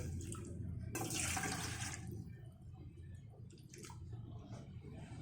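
Water poured from a cup into a cooking pot while preparing sweet kozhukattai, a steady close splash of about a second, followed by quieter kitchen noise with no talk.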